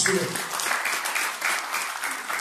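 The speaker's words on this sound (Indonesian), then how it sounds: "Setuju angkat tangan? Tepuk tangan bagi Yesus." A church congregation at a family blessing service breaks into applause, a dense, lively patter of many hands clapping at once, steady and fairly close throughout the brief moment.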